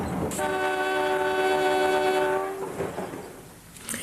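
A shunting train's horn blasts in one long sustained note, loud and close, then fades into low rumbling rail noise.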